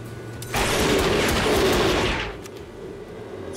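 A gunshot in the turn-based Wild West video game Hard West 2 comes as a loud, close blast that roars for nearly two seconds, then fades into a quieter tail.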